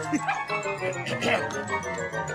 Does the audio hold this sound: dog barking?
yes